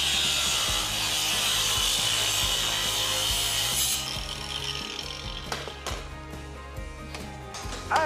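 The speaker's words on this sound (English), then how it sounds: "Do people actually walk around with these angle grinders?" An angle grinder cuts through a bicycle lock with a loud, continuous high-pitched grinding screech for about four seconds, then the noise drops to scattered scraping and clanks.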